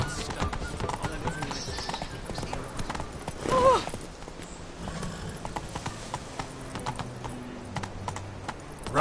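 Horse hooves clip-clopping at speed in The Witcher on PS4, a busy continuous patter of hoofbeats with a brief whinny-like burst, a voice speaking over it and keyboard-like clicks.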